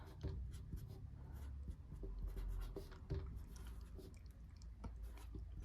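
A pen scratches across paper, jotting down a job list for a 1971 VW Beetle, soft and close with short irregular strokes and small taps, no talking.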